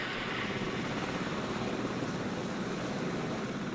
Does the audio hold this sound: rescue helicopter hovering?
yes